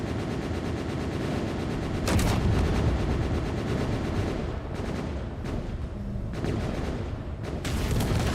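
A gun turret firing in a video game, a loud continuous barrage of heavy booming shots with a few sharper bursts, dense and close throughout.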